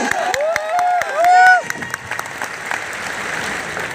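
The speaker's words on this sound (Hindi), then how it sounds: "जोरदार तालियां हो फिर एक बार।" Applause from a show audience rises after a brief tonal sound, a broad wash of clapping and crowd noise that continues steadily at moderate level.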